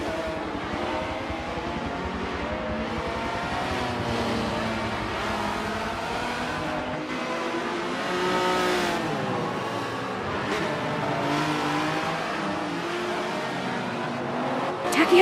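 Race cars lap the Circuit de Catalunya in the Forza 7 racing game, with continuous engine roar and revving as they pass through a turn, and a commentator talking over the engines throughout.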